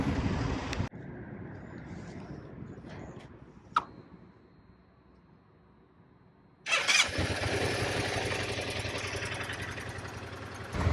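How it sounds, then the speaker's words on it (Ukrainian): Large training motorcycle at a driving school in Poland: the engine idles steadily, cuts out, then restarts with a sudden loud roar and settles into a strong, close idle. "мені вже довірили ось такий великий мотоцикл"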